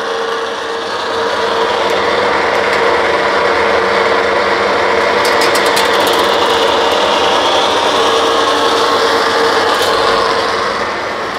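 A 22 gauge, 9 stand single phase sheet metal roll forming machine making a 90 degree bend and seam lock, a loud continuous grinding, rasping mechanical drone with brief rattling clicks midway.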